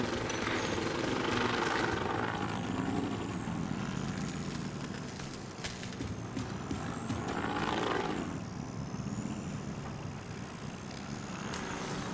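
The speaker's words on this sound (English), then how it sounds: "we've got enemy helicopters on approach" Video game sound: enemy helicopters approaching, rotor noise swelling and fading across the clip, a steady mechanical thrum with whooshing passes, fairly loud and with no talking.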